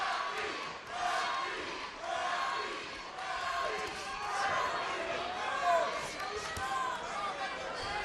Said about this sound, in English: Once again, the crowd chanting Rocky.